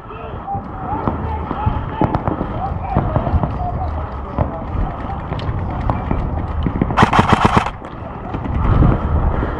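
Airsoft guns fire in rapid bursts and single pops during an outdoor skirmish at a field, mixed with nearby talk and shouting.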